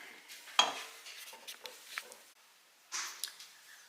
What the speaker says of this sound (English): We're gonna finish stirring this up and then we're gonna move to the counter.